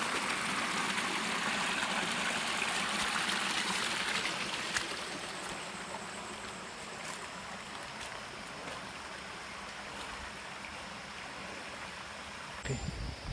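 A forest stream flowing past ferns along a hiking trail, a steady broadband rush that is louder for the first few seconds and then settles into a softer, continuous wash.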